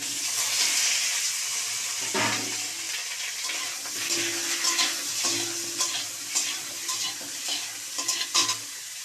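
Chopped mango hits a hot spice tempering in a pan and fries with a loud, continuous sizzle, with repeated stirring scrapes and clatter close by throughout.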